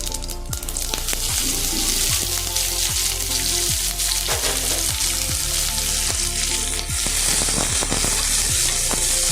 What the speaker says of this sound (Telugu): రెండు పెద్ద ఉల్లిగడ్డలు నాలుగు మిరపకాయలు కరివేపాకు అనమాట ఇవి వేస్తున్నాను